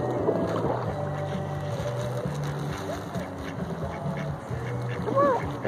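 Ducks quack now and then over a steady outdoor drone and wind, with a few louder calls near the end.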